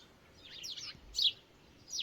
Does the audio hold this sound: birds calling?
yes